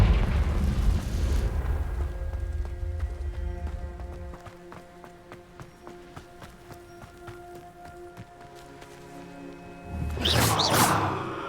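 A Confringo spell blast in Hogwarts Legacy: a deep whooshing boom at the start fading into a ringing, chiming tail, then a second sharp burst near the end, with no speech over it.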